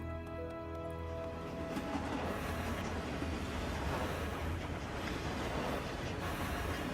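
A train rolls along the rails, a continuous heavy rumble with a low steady hum and faint rhythmic clatter, loud and close throughout with no voices.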